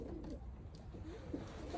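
Pigeons coo softly in a loft setting, low rounded calls repeating faintly over steady background rumble with no talk.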